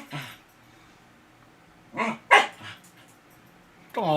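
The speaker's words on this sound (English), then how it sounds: "Oh, Oreo, you're causing Dennis's little puppy to whine and cry because he's reacting to you." Dennis's little puppy whines and yelps in short bursts, a few high cries clustered together and another at the end, moderately close in a fairly quiet indoor room.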